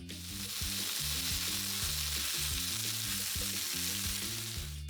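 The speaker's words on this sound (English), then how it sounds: "I'll keep these moving around the pan until every piece has a nice colour and feels cooked through." Beef pieces for Mongolian beef noodles fry and sizzle steadily in a pan, a loud continuous crackle with the rhythmic scrape and clatter of a utensil stirring them around, no voices present.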